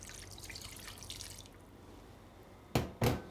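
Water goes into a pot of sardines for braising, starting as a soft trickling wash and ending in two short, louder splashing bursts near the close, heard close with no talking.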